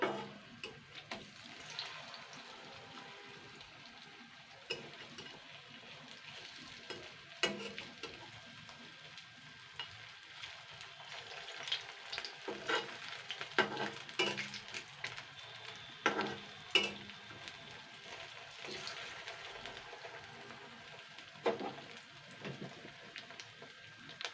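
Egg chops fry in a pan with a steady low sizzle while they are turned over, with scattered scraping and clinking from the utensil and no talk.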